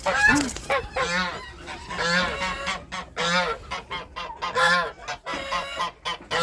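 Several loud, close goose honks, a pet goose called Goshka, come in repeated nasal bursts with short gaps, calling mostly alone with little other noise.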